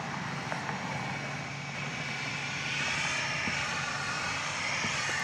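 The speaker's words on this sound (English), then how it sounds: "I hear a plane, but I don't see it." Airplane engine droning steadily near the runway at Dallas Love Field at night, a continuous broadband roar that swells slightly partway through, with no talking.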